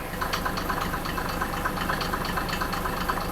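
A 1987 Mercedes 300SDL diesel engine idles loudly and close, a dense steady clatter with a rapid rhythmic knock and no pauses.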